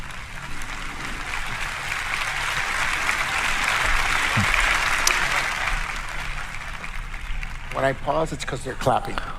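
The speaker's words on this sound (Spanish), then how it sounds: "Cuando me callo un momento es porque la gente está aplaudiendo y gritando, vitoreando" A large crowd at a political address applauds and cheers loudly and steadily, a sustained roar of clapping and shouts with a brief voice rising near the end.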